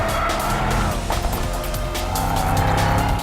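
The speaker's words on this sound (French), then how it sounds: "il suffit d'enclencher le mode Drift, histoire d'envoyer les 850 Nm de couple sur les seules roues arrière" Mercedes-AMG E63 S drifting on a circuit in Drift mode with its 850 Nm of torque sent to the rear wheels alone, giving a loud steady engine roar with tire squeal throughout.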